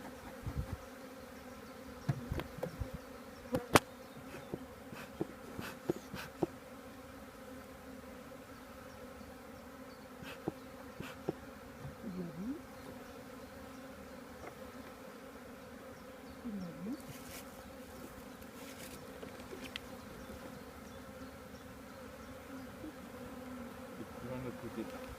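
Honeybees buzz steadily at an apiary during a spring hive inspection, a dense continuous drone close by with individual bees passing and occasional handling knocks.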